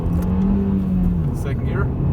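A car accelerates hard in first gear from a slow roll, the engine note rising steadily and loud inside the cabin, with a voice talking over it.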